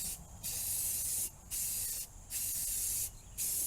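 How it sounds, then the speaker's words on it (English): Rattle-can spray paint applied while repairing a CJ5 Jeep body, four close bursts of sharp steady hiss separated by short pauses, with no voices. "Little rattle can."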